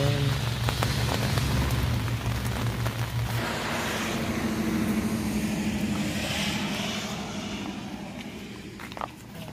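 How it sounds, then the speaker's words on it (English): Steady rain falls during a cycling trip on Prince Edward Island, a dense continuous hiss lasting throughout, with a low engine-like hum in the first few seconds and no talking. "It's raining again."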